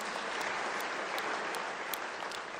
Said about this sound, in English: Can you give yourselves a round of applause?